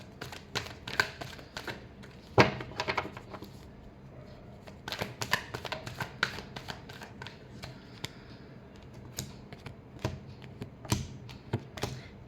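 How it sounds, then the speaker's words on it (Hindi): A deck of tarot cards is shuffled by hand, with quick, soft riffling and tapping bursts repeating irregularly across the whole stretch, close and fairly quiet, with no talking. "Last shuffle."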